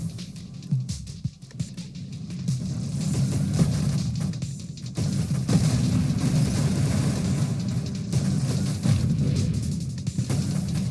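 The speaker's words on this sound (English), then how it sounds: "Everything's exploding." Dense, continuous rumbling blasts fill the space-shooter game Nova Drift, a thick wall of overlapping explosions that barely lets up, with a brief dip near the middle before surging again.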